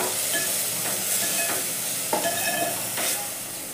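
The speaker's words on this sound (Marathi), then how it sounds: "गरम मसाला, हळद, लाल मिर्च पावडर, हे सर्व आता भाजून घेऊया चांगलं." Garam masala, turmeric and red chilli powder roast in a pan for a potato and soybean bhaji, with a continuous hiss and a few soft stirring scrapes at intervals.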